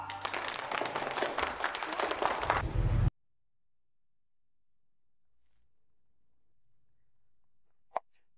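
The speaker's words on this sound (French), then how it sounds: "Applaudissements." An audience bursts into dense, close applause for about three seconds, then it cuts off abruptly to near silence, broken by a single sharp click later.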